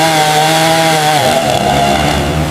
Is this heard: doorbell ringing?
no